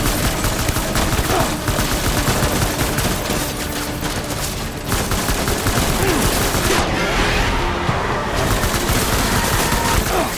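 Dense, sustained gunfire from the video game Death Stranding rattles on without pause for the whole stretch, loud and close, a steady barrage of overlapping shots.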